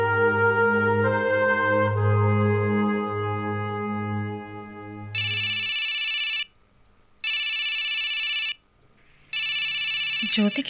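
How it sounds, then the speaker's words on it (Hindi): A telephone ringing in a Hindi TV drama scene, with electronic trilling bursts repeating in a regular on-off pattern, loud and alone, after a sustained musical tone fades out. "ज्योति के घर से फोन इस वक्त?"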